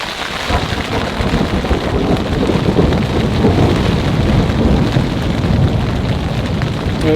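Loud thunder rumbles through a heavy rainstorm, a deep rolling boom sustained over dense, constant rainfall, close and full with no voices.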